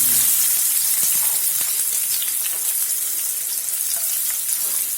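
Chopped onion dropped into hot oil already holding cumin, mustard seeds and asafoetida for a dry chana dal and spinach sabzi, sizzling loudly and steadily up close, with faint stirring clinks.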